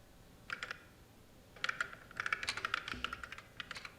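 Computer keyboard typing in short bursts of quick, close clicks, a brief flurry followed by a pause and then a longer run of keystrokes, heard alone in a quiet room.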